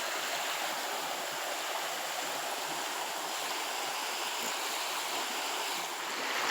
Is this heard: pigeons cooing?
no